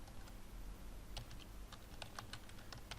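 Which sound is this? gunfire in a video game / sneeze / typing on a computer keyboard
typing on a computer keyboard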